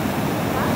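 A Swiss waterfall pouring into a river, a loud continuous rushing roar heard up close.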